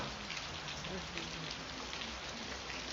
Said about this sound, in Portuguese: porque está chovendo, talvez o áudio não esteja tão bom